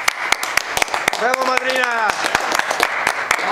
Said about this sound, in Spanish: suplico a cada uno de ustedes un aplauso para la señorita madrina